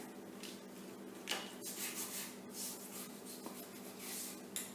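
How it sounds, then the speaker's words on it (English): Paper is burnished down onto a mini album binding with a tool: a run of firm, close rubbing and scraping strokes, irregular in rhythm, with no talking. "So I'm just going to burnish it on there."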